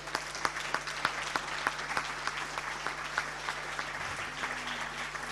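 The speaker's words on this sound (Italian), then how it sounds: "Accogliamola con un grande applauso, Xenia Francesca Palazzo." Audience applause at a Paralympic sports awards gala in Veneto, a thin scattering of fairly quiet claps with distinct individual hand strikes, steady across the whole stretch.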